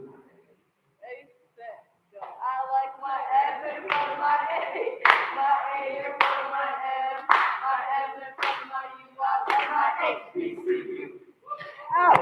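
FAMU graduates stand in a council meeting and perform a rhythmic clapping chant, sharp claps in bursts mixed with chanted voices, loud and close in the chamber.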